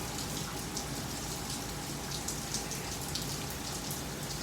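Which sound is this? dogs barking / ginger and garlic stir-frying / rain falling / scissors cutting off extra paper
rain falling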